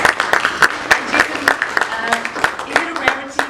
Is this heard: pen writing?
no